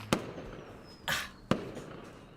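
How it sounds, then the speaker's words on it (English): In the video game DDLC Purist Mod, fireworks go off in sharp cracking bursts, three sudden reports with a rising whistle between them, fairly close and distinct against a quiet background. "seeing the second round of fireworks go off"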